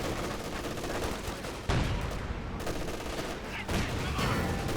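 Machine guns rattle in rapid bursts in the Company of Heroes 2 strategy game, mixed with other battlefield gunfire and explosions, steady and fairly loud throughout with a sharper swell partway through.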